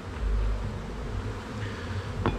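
Honey bees buzz at a beehive during a hive inspection, giving a faint, continuous drone close by with a brief sharper sound near the end.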